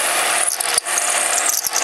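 Drilling on a Micromark 7x14 mini lathe, a loud steady metallic whirr with brief rasping grind and short dips where the bit pecks in and out, with no voices.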